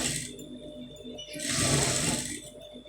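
A sewing machine stitches a folded edge on a round neck, its motor whirring at moderate speed, easing off, then running louder and steadier up close before slowing.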